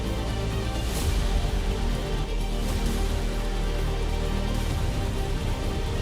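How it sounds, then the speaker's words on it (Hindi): Heavy rain driven by strong winds in Jammu and Kashmir, a dense, steady broadband roar that holds loud and even throughout with no voices. "जम्मू कश्मीर के कई इलाकों में तेज हवाओं के साथ भारी बारिश"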